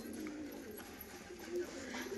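Two white-and-green standing pigeons kept for sale make a soft, continuous cooing murmur, moderately faint, with the low bubbling tone running unbroken throughout.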